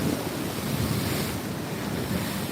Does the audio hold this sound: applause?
no